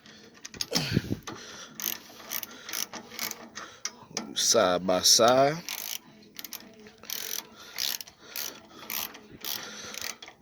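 Hand tool tightening a cheap custom exhaust pipe on a Predator 212cc engine, bursts of rapid ratchet clicking close up, with someone talking intermittently around them.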